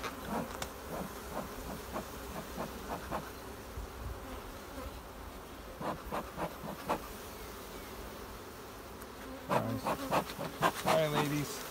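Honeybees buzz steadily around an open hive during an inspection, a thin insect drone with individual bees passing close to the microphone, their whirring swelling louder near the end.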